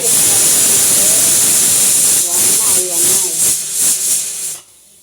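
Loud, continuous hiss of steam venting from a pressure cooker, with a voice speaking beneath it, then it cuts off abruptly near the end.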